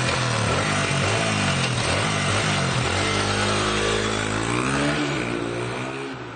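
A dirt track motorcycle engine revs hard and close, its pitch climbing and falling in steady harmonic sweeps, then holding a rough, buzzing drone before easing off slightly at the end, with no voices.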